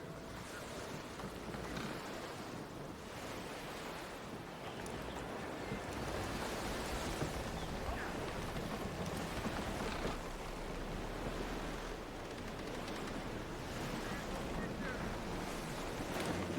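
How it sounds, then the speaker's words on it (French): Ocean waves wash and wind blows steadily at sea aboard a sailing ship in Assassin's Creed Black Flag, a continuous broadband roar with no clear breaks. "Le vent a forci."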